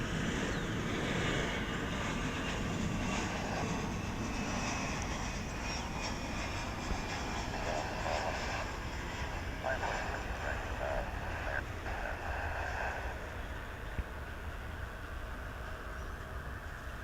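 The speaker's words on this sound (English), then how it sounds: "And Embraer 175 is now on final approach on Runway DFW." Embraer 175 airliner on final approach at foggy DFW International Airport, a steady distant jet roar droning throughout with a broad rumbling wash, fairly faint, with no talk over it.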